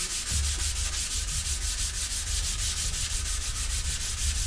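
Steady abrasive sanding of a wooden skateboard deck, a continuous rhythmic scratchy rubbing that goes on without pause, close and fairly loud, no voices.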